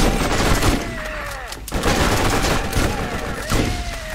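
A weapon in the video game Borderlands fires in loud, repeated bursts of rapid gunshots, with short pauses between volleys and whining game effects beneath.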